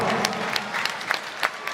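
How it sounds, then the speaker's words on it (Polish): Applause for a swimmer introduced at a boys' 100 m medley swimming competition, a brisk burst of crowd clapping with distinct sharp claps, fairly close and filling the short moment. "Polski Adrian Misiarz, duże brawa"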